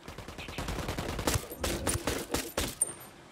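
Rapid pistol shots crack in quick succession during a Ghost Recon Wildlands firefight, loud and close, with uneven spacing between bursts.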